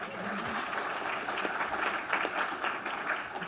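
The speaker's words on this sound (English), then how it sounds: "we use our newfound time to pause for effect, and then we get applause" Applause from the audience at an economy forum: a dense, steady patter of many hands clapping in a hall, lasting a few seconds, with no pauses.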